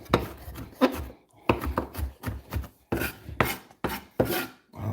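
A knife chopping ginger for a homemade ginger bug soda starter, heard as bursts of crisp cutting strokes in uneven runs separated by short pauses, close and fairly loud.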